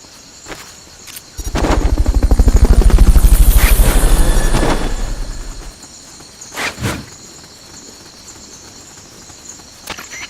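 A Fulton recovery helicopter in Metal Gear Solid Peace Walker swells in with a loud rapid rotor thump, holds for a few seconds, then fades away, followed by a couple of sharp bursts over a steady insect-like background drone.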